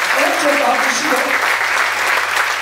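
Dense, steady applause from a concert audience at a rebetiko memorial concert in İzmir, loud and continuous throughout, with a faint low hum underneath and no clear voices on top.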